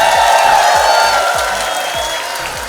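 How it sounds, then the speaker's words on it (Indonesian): A crowd at the inauguration of Krisna Nusantara in Yogyakarta claps and cheers in a dense, steady wash of noise, with regular low thumps of a music beat running underneath throughout. "Tepuk tangannya mana?"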